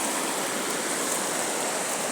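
Steady, dense rushing of river water fills the scene as an unbroken broadband wash, loud and close, with no voices.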